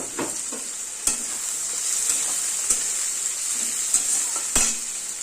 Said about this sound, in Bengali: পেঁয়াজটাকে ভালো করে লাল লাল করে ভেজে নেব